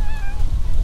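A house cat gives one short, clear meow up close, with low rumbling background noise underneath.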